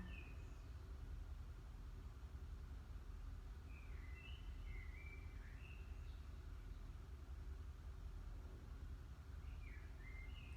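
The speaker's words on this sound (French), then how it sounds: "J'écoute les oiseaux." Birds chirp outdoors in faint, scattered bursts of short song notes over a low steady rumble of background noise, distant and quiet during a morning exercise routine.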